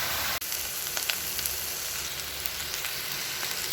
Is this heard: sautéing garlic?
yes